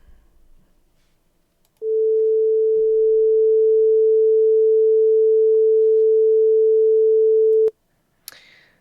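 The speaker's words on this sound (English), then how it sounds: "That actually was that sounded like space, but it was really loud." Loud synthesized tone from a sound generator, a pure steady beep held for about six seconds before cutting off abruptly, followed by a short high burst, with no talking.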